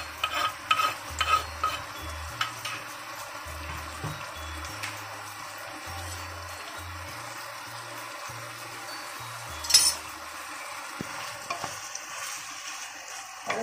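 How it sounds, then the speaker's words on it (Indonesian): Butter chicken with onion is stirred in a frying pan, a close, steady sizzle broken by repeated spatula scrapes, with a low droning tone running underneath. "Kita aduk lagi biar bumbunya itu lebih meresap."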